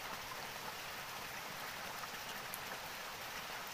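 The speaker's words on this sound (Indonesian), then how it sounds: "Hujan pemirsa." Steady rain falls outdoors, a constant, even hiss of drops striking surfaces, fairly quiet and unbroken throughout with no voices.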